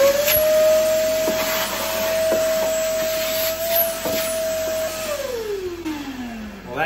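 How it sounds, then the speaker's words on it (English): A vacuum cleaner runs steadily with a constant whine, its pitch dropping near the end as it winds down, with small knocks and rattles throughout. "I don't know if this vacuum"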